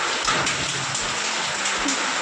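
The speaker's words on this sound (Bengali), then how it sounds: "এখন প্রচুর পরিমাণে বৃষ্টি হচ্ছে, ঝড় হচ্ছে" Heavy rain pours steadily during a storm with hail, a dense continuous hiss with occasional thuds and splashes, loud and unbroken, with no voices.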